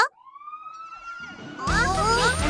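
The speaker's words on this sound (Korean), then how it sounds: "소방차 출동 준비" A cartoon fire truck siren from the Pinkfong Super Rescue Team children's vehicle series rises into a sustained wail, then loud, busy animated sound effects swell in over it.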